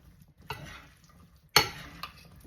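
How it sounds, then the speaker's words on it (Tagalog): Bean salad being stirred and mixed slowly in a bowl, with a few soft scraping strokes and one sharper clink of the utensil against the side, quiet and close, with no talking. "we'll try to mix it slowly, mix it evenly"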